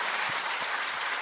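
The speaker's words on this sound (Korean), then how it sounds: "박수 한번 보내주십시오" A studio audience on a Korean talk show claps in a dense, even wash of applause. The clapping is steady and moderately loud, with a few faint low thumps underneath.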